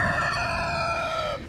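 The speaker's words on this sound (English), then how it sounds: "This is our rooster hut." A single rooster crows loudly and close, one drawn-out harmonic call that fades at the end.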